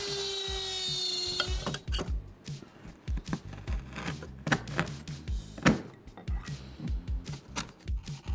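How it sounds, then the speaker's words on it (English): A router whines steadily for almost two seconds as it cuts mortises in table legs guided by a template, then falls silent, leaving close, irregular wooden knocks, taps and rubbing. "I just need to align the template and cut with the router to the right depth"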